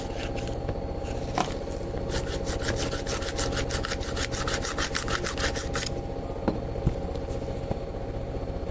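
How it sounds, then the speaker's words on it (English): A deburring tool scrapes the inside of a freshly cut transmission oil cooler pipe on a 2010 Silverado 2500HD 6.0L V8, giving a steady close rasping rub with a fast run of rhythmic strokes in the middle, no talking. "what you want to use is a deburring tool. And you want to make sure you deburr the inside of the pipe."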